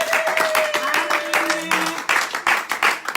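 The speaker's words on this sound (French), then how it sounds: "On acclame pour la parole de Dieu." Church congregation applauding and cheering during a service, dense clapping with voices and a sung or shouted tone over it, steady and loud throughout.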